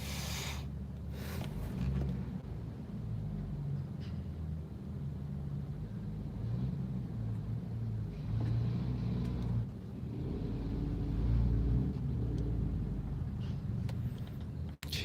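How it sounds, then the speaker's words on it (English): Heavy road traffic in Bangkok: a steady low rumble of car engines and passing vehicles, continuous and moderately loud throughout with no voices. "this is the worst traffic I've been in,"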